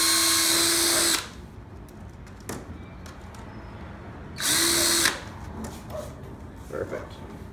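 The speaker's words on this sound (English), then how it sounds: "now we're gonna drill our hole right here in the center of the top with a 3/8 inch drill bit" A power drill with a 3/8 inch bit bores a hole in the top of a crate, two short loud whirring bursts separated by a quiet pause with faint handling noises.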